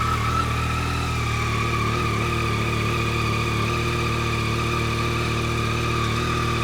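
A Yamaha R9 motorcycle fitted with a Yoshimura exhaust idles after a cold start, a loud, steady drone with a firm low rumble and a sustained higher whine, unchanging throughout.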